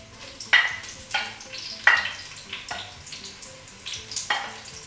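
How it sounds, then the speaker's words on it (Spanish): White onion sizzling in hot oil in a pot, with several sharp bursts of crackle as pieces hit or are stirred, over a steady close frying hiss. "Ya el aceite está caliente. Sofreímos la cebolla blanca."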